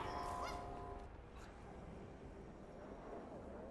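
Chickens cluck in Plants vs. Zombies Garden Warfare 2, a short honking burst near the start amid dense, noisy game sound.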